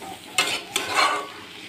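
Cauliflower and potato pieces stirred and sautéed in a pan over a low gas flame, with two sharp scraping stirs followed by a soft ongoing sizzle, close and clear with no talking.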